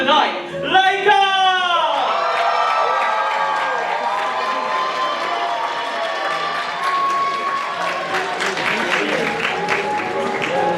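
A concert audience at Colours of Malaysia breaks into applause and cheering for the opening DJ, a sustained wash of clapping and whoops after a short announcer's voice at the start.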